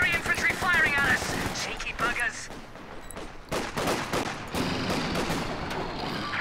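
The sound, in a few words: gunfire in Company of Heroes 2 video game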